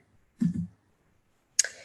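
Two distinct clicks from a computer keyboard as a key is pressed to hit enter, separated by about a second of silence, close and quiet.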